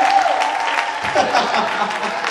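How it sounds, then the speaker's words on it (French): Audience applause for a performer named Alvin at a Bonana 2023 show in Pointe-Noire, brisk clapping close by, with a brief voice and a bit of crowd noise mixed in. "on applaudit très fort pour Alvin"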